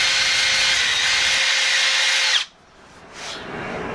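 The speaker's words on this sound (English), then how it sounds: "I took a well worn out roll-lock disc on my drill, because I don't have a right angle grinder" A drill spins a worn roll-lock disc against old silicone, giving a loud steady abrasive whine that stops abruptly, followed by a brief faint scrape.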